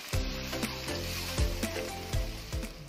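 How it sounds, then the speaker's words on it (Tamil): Chopped tomatoes sautéing in hot ghee for sambar, a loud continuous sizzle punctuated by several sharp stirring knocks against the pan, close up, without talk. "இப்போ கட் பண்ணி வச்சிருக்கிற தக்காளியை சேர்த்து நல்லா வதக்கி விடுங்க"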